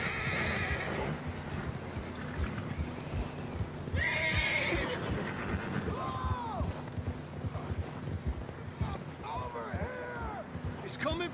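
Horses in Red Dead Redemption 2 neigh and whinny repeatedly while hooves clip-clop steadily beneath, with wind and other game sounds filling the background.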